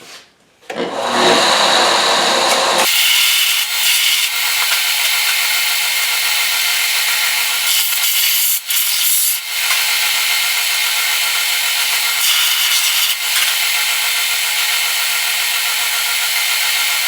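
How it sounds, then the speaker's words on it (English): A belt sander feathering down a steel patch for the rusted fender bottom of a Chevy C10, grinding loud and steady at close range for a long continuous stretch after a brief quiet start. "I'm just going to feather this patch here down on this belt sander until I get it right."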